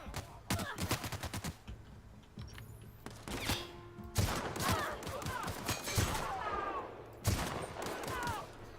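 Guns fire in The Outer Worlds in several loud, sharp bursts of shots separated by short gaps, with a few single cracks in between.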